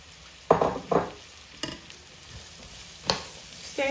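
Carrots frying in a pan for prawn fried rice are stirred with a spatula: a few close scraping strokes over a soft, steady sizzle.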